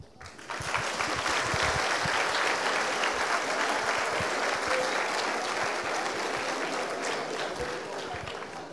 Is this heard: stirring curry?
no